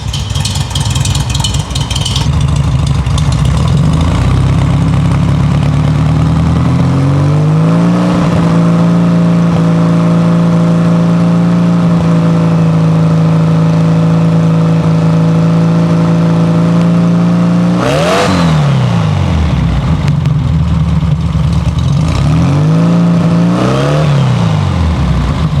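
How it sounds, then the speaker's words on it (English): A 1970 VW air-cooled 1915cc engine with dual 40 carburetors roars loudly and close up. It climbs into a sustained high rev, then drops and blips sharply twice more. "Let her warm up. Let her get some heat in her before I start,"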